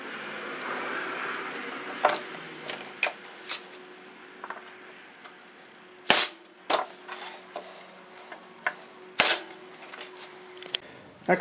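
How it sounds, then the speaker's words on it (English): A staple gun fires staples into a shelf for an Airstream shelf project, giving a few sharp, loud snaps that stand out against quieter handling clicks and a faint steady hum. "I'm going to take a staple and then shoot it in there"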